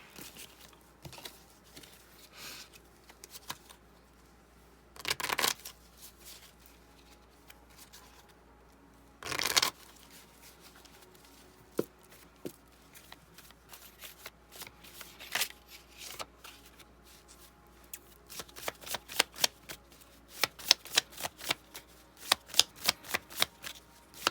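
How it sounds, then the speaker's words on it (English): Tarot cards are shuffled close up in a quiet room: a few soft riffles and rustles, two longer shuffling bursts, then a quick run of crisp card snaps toward the end. "I shuffle your cards here."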